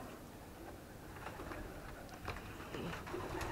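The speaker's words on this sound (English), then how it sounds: "This is a bird infestation. There's a whole bunch of babies down there." Inside a grain elevator, birds with their nestlings make soft, distant cooing calls, faint and scattered among low background noise.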